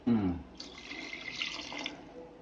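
A short burst of water from a large glass pours and splashes into a pot of fish curry, a soft hissing trickle lasting a couple of seconds after a brief clatter.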